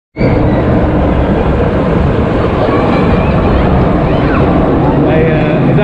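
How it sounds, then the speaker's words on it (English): A Ladybird Coaster powered roller coaster at Wicksteed Park runs with a constant loud rumble, its wheels clattering over the track, and heavy wind buffeting the microphone throughout. "Here we are for ride number two, Ladybird Coaster."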